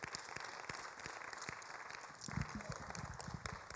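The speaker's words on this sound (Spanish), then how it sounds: "dale un aplauso al Señor" Church congregation gives a quiet round of applause during a sermon, soft and somewhat distant clapping with a few louder individual claps and low murmuring underneath.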